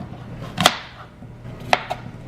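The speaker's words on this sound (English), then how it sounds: "and then cut them into thin slices. We'll need about 2 apples." A knife cuts through apples on a cutting board, with two distinct chops about a second apart, the second followed by a lighter tap, against a quiet background.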